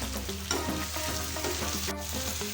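Onions frying in a pan for pepper chicken, with a steady bright sizzle and some stirring scrapes, close and loud throughout with no talking.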